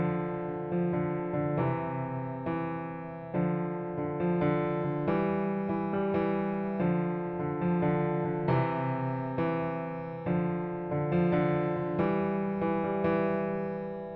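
Left-hand piano part, steady repeating low chords and bass notes in a moderate pulse, played alone at even loudness throughout.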